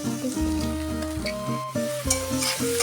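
A paste of ground garlic, onion and dried chilies fries in oil for a tilapia curry, a close, bright sizzle with stirring that runs beneath prominent melodic background music.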